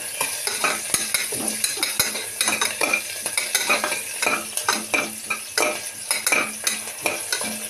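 Onions, green chillies and mixed vegetables fry in a pot for vegetable biryani, a steady sizzle broken by repeated scraping stirs of a metal spoon against the pot in an uneven rhythm, close and clear with no talking.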